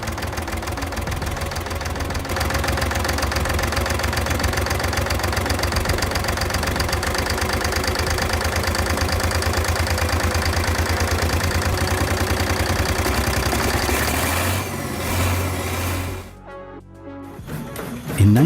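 A vintage 1950 Ruston and Hornsby 9XHRC stationary engine runs after being revived, a loud steady knocking thump at idle close by, then the beat falters and drops away near the end before a sudden loud burst.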